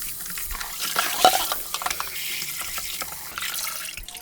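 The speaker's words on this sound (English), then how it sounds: "When I have all those potatoes shredded, I wash it." Shredded potatoes for rösti washed under a running kitchen tap, with water gushing into a sink, a sharp splash or clink near the start and irregular sloshing and stirring noises throughout.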